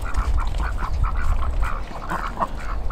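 Farm ducks raised from a spring hatch quack close by in a quick, uneven string of calls. A low rumble of background noise runs underneath.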